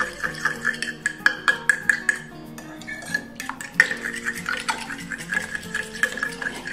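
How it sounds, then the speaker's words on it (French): Egg mixture with vanilla sugar being stirred in a flat-bottomed dish for French toast, a steady run of light clinks and scrapes of utensil on dish, close and moderately loud, with no talking. "je rajoute mon sucre vanillé. Hop hop hop. Je remélange"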